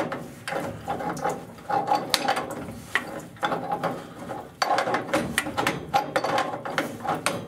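A pipe wrench works loose a frozen pipe fitting on a water heater, giving steady, close creaking and grinding clicks in repeated bursts with brief pauses between turns.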